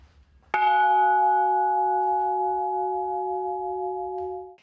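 One bell, from an exhibition of century-old Russian church bells, is struck once and rings out with a bright attack and a long, steady humming decay that lasts several seconds, with no voices.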